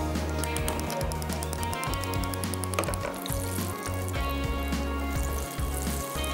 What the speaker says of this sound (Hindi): चंक्स भी हो गए जनाब हमारे फ्राई